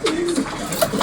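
Kulmi Regdar male pigeon cooing close by, a few soft throaty coos in a short burst with no other sounds.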